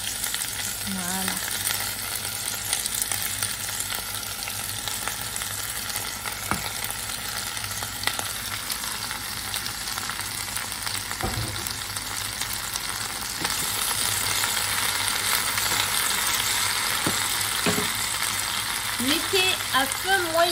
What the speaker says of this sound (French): l'huile est chaude. On peut mettre les poivrons avec les oignons à cuire.